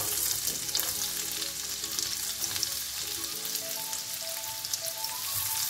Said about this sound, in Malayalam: ഇതിലേക്ക് ചോപ്പ് ചെയ്ത് വെച്ചിരിക്കുന്ന സവാള ഇട്ട് കൊടുക്കാം